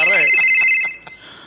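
A telephone rings during a comedy stage skit, with a loud electronic trilling ring that fades out after about a second while voices speak over and after it.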